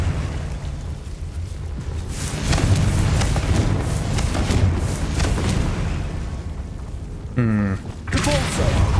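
Spell explosion from Confringo in the video game Hogwarts Legacy, a dense booming rumble that swells loudly and sustains for several seconds, with a brief tonal magical flourish near the end.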